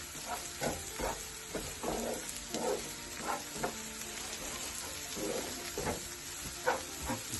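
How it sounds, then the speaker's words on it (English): An aloe vera omelette mixture sizzles and crackles in a hot frying pan while being stirred, steady frying hiss with repeated soft scraping strokes, fairly quiet and close. "Give it a good mix up."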